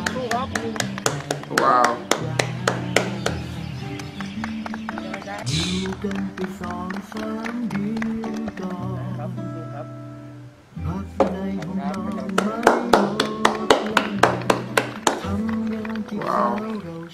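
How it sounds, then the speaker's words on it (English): People across Thailand clap in thanks to doctors and nurses: rhythmic rounds of hand claps over tonal voices, pausing briefly midway before resuming strongly, with someone speaking a word. "All over Thailand, persons are showing their expression of gratitude by clapping or applauding."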